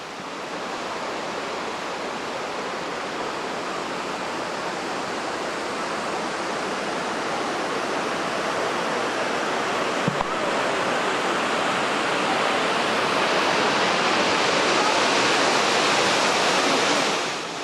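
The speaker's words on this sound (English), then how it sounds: "Florence Falls is our next stop. It's a spectacular double falls which is open all year round with camping facilities." Florence Falls, a double waterfall in Litchfield National Park, gives a steady, loud, broadband roar of falling water that holds constant for the whole stretch, with no voices.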